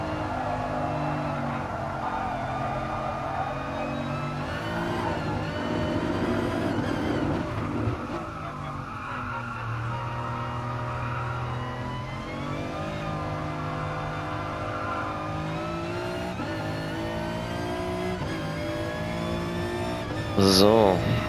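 A BMW M4 race car in Gran Turismo Sport laps a track, its engine droning and shifting through gears with tire squeal under braking, while someone talks over it throughout.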